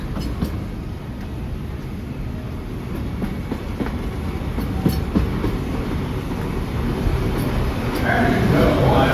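Walt Disney World Railroad steam train at the Magic Kingdom rolling along a straightaway, a steady rumbling clatter of wheels and cars that builds slightly toward the end, with a voice talking over it.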